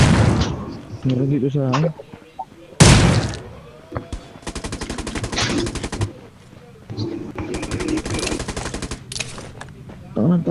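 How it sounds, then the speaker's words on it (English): Rapid P90 gunfire in Rules of Survival, several loud automatic bursts of fast, evenly spaced shots separated by short pauses, with someone speaking early on and occasional heavier booms. "Ang taas ng recoil naman itong P90 na ito."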